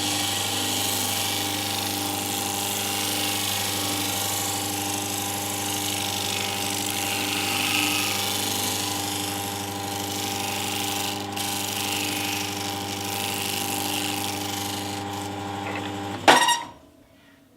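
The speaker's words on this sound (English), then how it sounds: "I didn't need to put much pressure on that when I was disc sanding that curve" An electric disc sander hums steadily and loudly at close range while sanding a curve, then abruptly cuts off with a sharp clunk as its brake stops the disc near the end.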